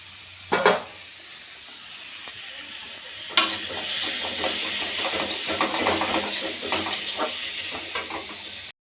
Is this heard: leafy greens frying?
yes